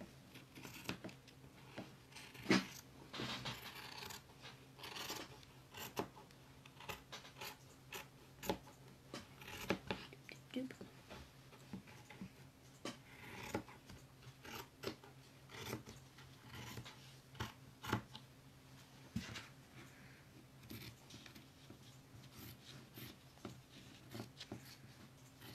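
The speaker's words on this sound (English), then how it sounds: "And then take your fabric scissors," Fabric scissors snip through fabric and a paper pattern during a crayon-roll sewing project, giving repeated quiet crisp cuts and rustles at close range over a faint room background, with no talking.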